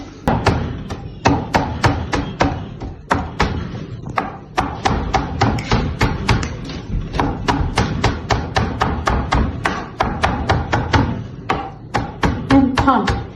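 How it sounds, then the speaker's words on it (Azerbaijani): A knife chops fresh herbs (dill, coriander, mint and green onion) on a board for stuffed grape leaves. The strokes are quick, close and steady, forming an unbroken series of sharp thuds with only brief pauses. "Mən tam göyərtilərimi xırdaladım."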